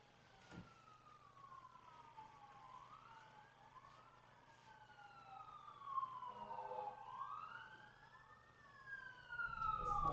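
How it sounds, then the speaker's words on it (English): Fire engine sirens pass by outside, several wailing tones sweeping up and down and overlapping, growing louder toward the end as the trucks draw near, with no talk over them. "we hear fire engines going by outside, apropos."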